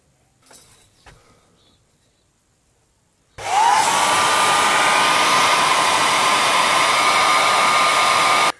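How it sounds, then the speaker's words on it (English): A hairdryer is switched on after a few seconds of quiet handling noises. It blows loudly and steadily, heating heat-shrink on a van's lighting wire. "I just heated it up with the hairdryer."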